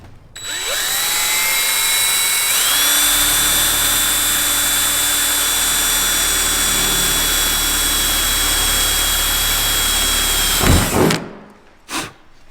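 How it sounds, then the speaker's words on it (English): A power drill bores a pilot hole through a vehicle roof, a steady high-pitched whine that rises as the motor spins up, holds for about ten seconds, then stops with a couple of knocks. "You always want to do a pilot hole first."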